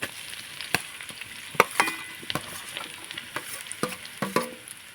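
Chopped ginger and chili fry in hot oil with boiled mashed potato, a close sizzle broken by sharp clicks and scrapes from stirring.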